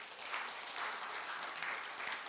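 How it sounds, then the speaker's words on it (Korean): A church congregation claps steadily during a Sunday worship service, a faint, even patter of many hands lasting a couple of seconds. "박수 한번 하겠습니다."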